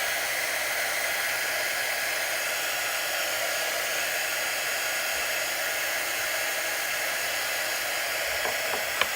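A hair dryer blows steadily on a wet charcuterie board, a continuous loud whooshing hiss that runs unchanged throughout with no talking.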